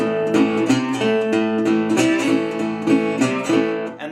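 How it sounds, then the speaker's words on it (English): A guitar plays the regular riff of a Delta blues song, a steady, rhythmic run of plucked notes close up with no voice. "So here's the regular riff."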